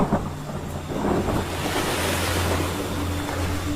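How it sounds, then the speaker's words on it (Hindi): Ocean surf washing in around knee-deep water and drawing back, a steady broad rush with wind noise over it, continuous and fairly close without any voices. "उसके घुटनों तक पानी आया और लहर वापस जाते हुए पानी वो वापस ले गई।"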